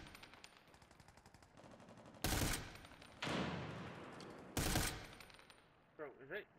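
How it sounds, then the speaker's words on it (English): Gunfire in a video game: rapid automatic bursts, two loud sustained volleys standing out over quieter shots and background noise, close and harsh. "What are you shooting at?"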